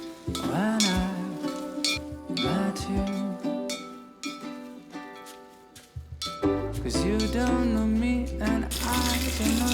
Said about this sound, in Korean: 이렇게 물을 붓고 한 소끔